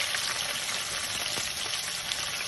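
Green chillies sizzle in hot oil while uppittu is being made, giving a steady, dense frying hiss close by with faint stirring, no voices over it.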